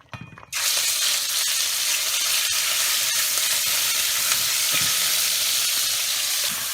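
Ground meat dropped into hot oil in a pan for Puerto Rican pastelón bursts into a loud, steady sizzle that holds evenly for several seconds, close up and with no talking.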